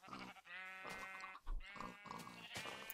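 Sheep bleat in the Minecraft video game, two long wavering bleats in succession from a pen of farm animals, loud and close with no talk over them.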